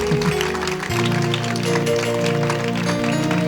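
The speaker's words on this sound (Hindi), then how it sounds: "खुल के तालियां बजाए ना।" A congregation at a Sunday church meeting applauds, a steady, dense wash of many hands clapping that holds throughout, with music or tonal sound running underneath.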